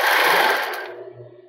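A sewing machine runs a zigzag stitch along the edge of lace for a double-strand thong, whirring loudly and steadily up close before winding down and stopping near the end.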